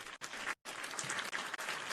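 Canned applause sound effect played during a livestream, a brief burst of crowd clapping cut by a short gap of silence and then resuming, fairly faint and with no talk over it.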